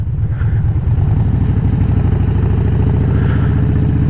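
A motorcycle engine runs loudly and close at a fast, even rhythm, with a dense low throb and slight surges as the throttle is worked.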